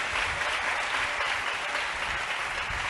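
A church congregation at a Hosanna Ministries service claps loudly and steadily, a dense, sustained wall of applause with no break.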